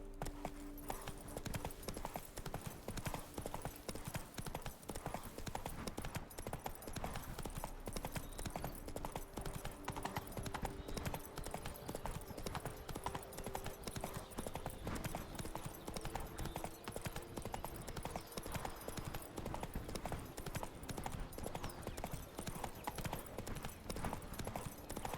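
Horse hooves gallop continuously in The Witcher 3, a dense, fast drumming that runs the whole time beneath a constant wash of game ambience and wind, fairly loud and even.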